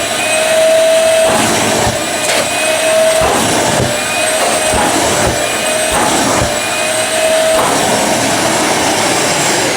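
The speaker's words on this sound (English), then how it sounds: "really quick video showing you guys the capability of this Ryobi 15-watt M-Class vacuum cleaner" A Ryobi 1500W M-Class wet and dry vacuum cleaner sucks at a car mat, a loud, steady whooshing roar with slight shifts in pitch as the nozzle moves and the mat flaps.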